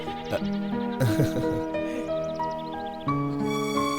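A young goat bleats several times in short wavering cries, fairly close, with some layered tonal sound running underneath.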